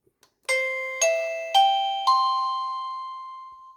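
Wireless doorbell M520+F55 plays a four-note descending chime, each bright tone struck about half a second apart and left to ring out, heard close and clear with no talking.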